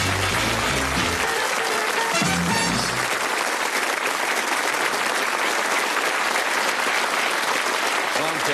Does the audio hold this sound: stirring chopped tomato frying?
no